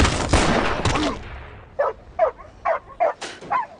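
A dog barking amid gunfire in the war film Sisu: a dense burst of loud gunshots first, then about six sharp, evenly spaced barks standing alone.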